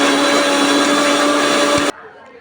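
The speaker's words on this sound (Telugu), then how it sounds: "దీన్ని ఇంకోసారి బ్లెండ్ చేద్దాం." An electric blender whirs loudly and steadily while blending a sapota (chikoo) shake with milk and ice, then cuts off abruptly, leaving quiet room sound.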